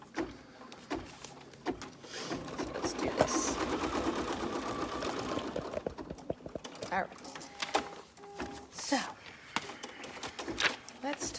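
An embroidery machine stitching on paper card, a faint, rapid, irregular mechanical clatter with bursts of tapping, close by, under quiet talk.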